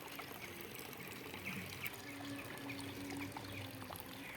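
A steady trickle of water leaking from an uncleaned fountain with green water, running and pouring, soft and continuous, with faint outdoor ambience and no talking.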